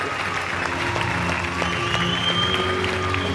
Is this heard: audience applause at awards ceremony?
yes